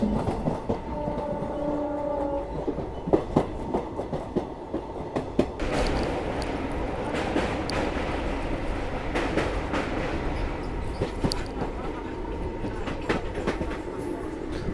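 An express train runs on rails near Coimbatore, with a continuous rumble, repeated clickety-clack of wheels over rail joints, and a brief horn tone early on.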